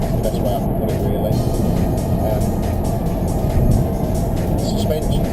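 A Mazda 6 drives along the road, heard from inside the cabin as a steady wash of engine and road noise that stays fairly loud and even throughout.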